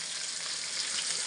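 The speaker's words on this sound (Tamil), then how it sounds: "இது போட்ட கொதிக்குது பாருங்கள்." Chicken gravy bubbling in a pan on a stove, heard as a steady, soft hiss and sizzle with no talking.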